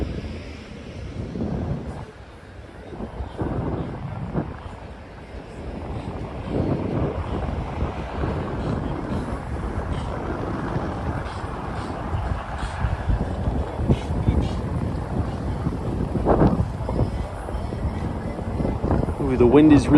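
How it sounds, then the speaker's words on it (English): Wind buffeting a microphone on an Upper East Side street in New York City, a steady low rumbling gust that grows louder toward the end, with people talking over it. "the wind is really picking up now"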